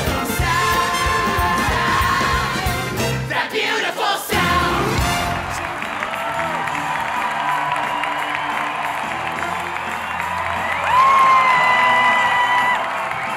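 Opening night crowd for the Broadway musical Beetlejuice at the Winter Garden Theater cheers and whoops in a loud, sustained roar, with voices and music blending into the noise.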